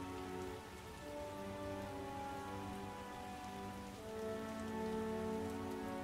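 Rain pours down in The Witcher video game, a constant close patter on surfaces with soft sustained music tones underneath and no talking.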